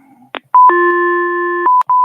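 A telephone keypad sends a quick run of DTMF dialing tones, with short beeps, one long sustained tone and then more brief beeps, loud and clear with no talk.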